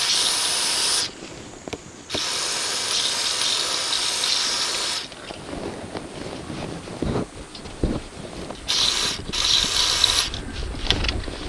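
Clicking, ratcheting mechanical noises and a steady hiss as the steering wheel of a Nissan Z33 350Z with failing, leaking power steering is cranked back and forth, with bursts of brighter grinding and squeaking coming and going over about ten seconds.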